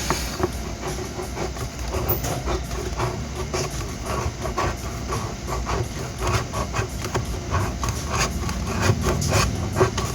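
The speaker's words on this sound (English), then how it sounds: "go around it with the chisel." Chisel scraping old glue from the foam-edge area of a JL Audio 10W6 V2-D4 subwoofer being refoamed: dense, continuous rough rubbing and scratching close up, with rapid irregular strokes and no talking.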